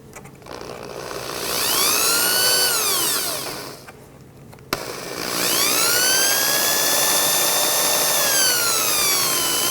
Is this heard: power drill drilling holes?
yes